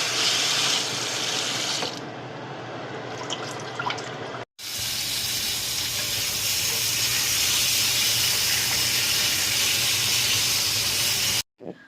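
Warm water runs from a tap for washing in a home kitchen, a loud continuous gush that cuts off briefly, resumes, and stops again near the end.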